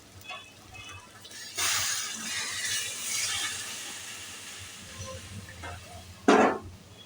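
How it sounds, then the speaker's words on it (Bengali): Hot water poured into a pan of chicken cooking South Indian style, a broad hissing wash that rises at about 1.5 seconds and holds steady, then eases, with a brief louder splash near the end. "জল দিয়ে দিচ্ছি।"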